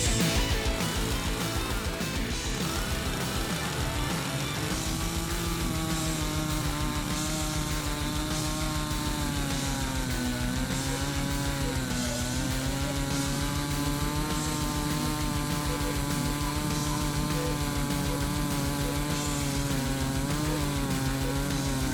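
A chainsaw cuts down a tree outdoors, running loud and close for the whole stretch as a steady buzzing engine whine that rises and dips in pitch while the blade bites through the trunk.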